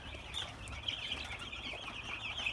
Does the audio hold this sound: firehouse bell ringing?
no